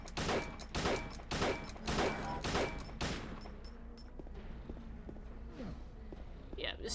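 In the horror video game Silent Hill 2, a gun fires repeatedly at an enemy: about six loud, booming shots in a quick, even rhythm, then quieter footsteps and ambience as a voice talks over it.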